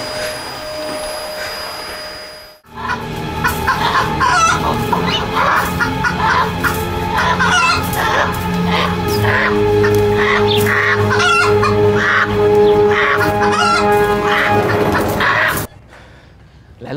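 Chickens clucking and squawking loudly and continuously at close range for most of the clip, with a rooster-like crow among the calls, after a quiet start and ending abruptly.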